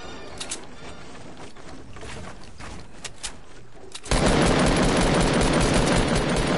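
A default heavy shotgun is fired in a video game, giving a sudden loud, sustained blast of burst gunfire that runs through the second half. Softer bursts and clatter precede it.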